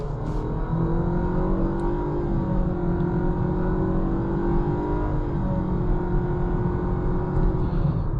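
A 2026 Nissan Sentra with a CVT accelerates in sport mode, its engine drone rising smoothly and continuously from inside the cabin, steady and moderately loud with no gear breaks.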